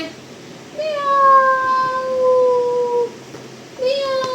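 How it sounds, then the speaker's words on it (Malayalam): A cat meows close by at home, one long drawn-out falling meow followed a moment later by the start of another, over a quiet room. "പൂച്ച എങ്ങനെ കരയും?"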